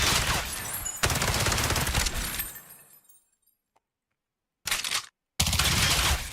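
Silenced gunfire in an Unreal Engine 5 shooter comes as loud, dense bursts of rapid suppressed shots that ring with harsh crackle, then a near-silent pause, one short burst, and another sustained volley, with no talk.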